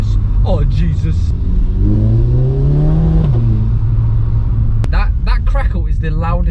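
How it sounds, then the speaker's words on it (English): A modified car exhaust, fitted fresh, revs and rises in pitch while accelerating, then drops back to a steady drone, with excited voices talking over the engine at the start and end. "That crackle is the loudest part of this exhaust."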